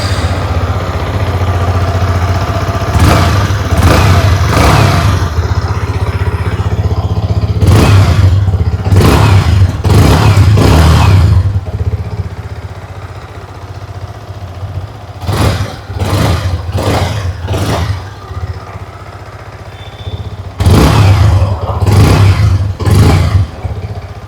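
A 2025 Yamaha MT-15 V2 motorcycle idles with a low exhaust rumble, then revs up sharply in repeated bursts, several throttle blips in groups, loud and close.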